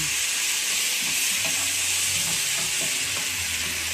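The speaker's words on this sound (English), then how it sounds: "This is what my pan looks like so far. I'll give it a stir." Vegetables with peppers and tomatoes sizzle loudly in a pan in a home kitchen while being stirred, a steady close-up frying hiss that runs throughout with scraping stir movements and no talking.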